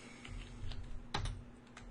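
Keys are pressed on a PC keyboard while a BASIC program runs on a Color Computer, giving a few soft, close clicks with one firmer keystroke in a quiet room.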